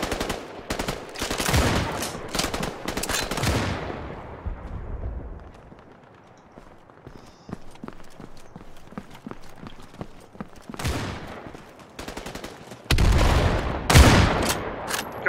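Bursts of automatic gunfire from the World War II shooter game Battalion 1944, loud rapid volleys at the start and again near the end, with scattered single shots and lighter clatter in the quieter middle stretch.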